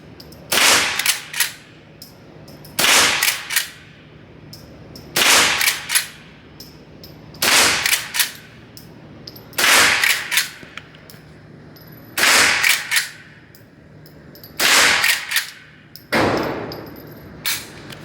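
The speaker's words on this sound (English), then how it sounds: "and we're gonna shoot it a few times." Old West pistols and rifles, including 1872 and 1873 Colts, fire at a center target in eight sharp, evenly spaced shots roughly two seconds apart, each with a brief ringing tail, loud and close with no talk.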